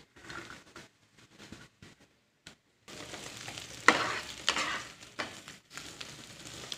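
Thinly sliced ivy gourd (kovakka) and onion stir-fried in a pan for a Kerala-style mezhukkupuratti, with intermittent spoon scrapes and stirs that give way to a louder, continuous sizzle in the second half.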